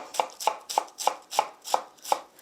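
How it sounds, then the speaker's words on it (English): Knife slicing a cored head of radicchio thin into shreds on a board, seven crisp evenly spaced cuts in a steady rhythm, close and clear with nothing else heard. "then we're just gonna slice it thin"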